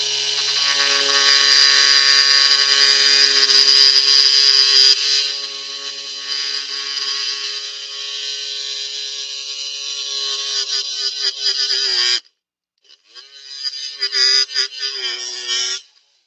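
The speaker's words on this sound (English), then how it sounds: "My oscillating tool." An oscillating multi-tool cuts into a carved wooden decoy with a loud, close, high buzzing whine. The pitch shifts partway through, then the whine cuts out briefly before starting again.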